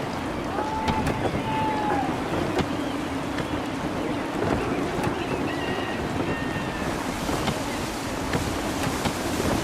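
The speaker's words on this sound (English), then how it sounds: "Gusty winds can be difficult to manage." Wind rushing over a sailing ship at sea in the Assassin's Creed 3 video game, a steady loud roar with water wash and creaking, plus a few brief whistling tones and sharp knocks.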